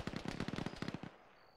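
A .50 cal machine gun fires from a bunker in a military video game, one rapid burst of about a dozen heavy thumping rounds at a distance, ending abruptly with a short fading tail.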